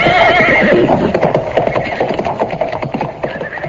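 Horses neigh loudly and close at the start of a horse-drawn chariot setting off, followed by a rhythmic clip-clop of hooves and creaking wood as it moves away.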